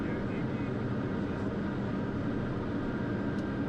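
A single-pilot plane taxis to its parking spot at Fayetteville after a stormy ILS approach, its engine a steady, close, unbroken drone with no pauses.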